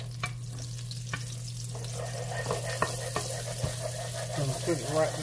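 Butter and olive oil sizzle in a hot pan on a home stove, a steady close frying hiss with faint stirring and kitchen clatter over a low background hum.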